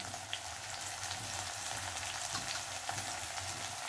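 Turmeric and spices sauté in a pan of oil for dry matki bhaji, giving a soft, continuous, crackly sizzle at low level with no voices.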